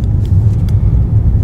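A Mercedes E53 AMG gives off a deep, steady low engine rumble up close, continuous with slight pulsing.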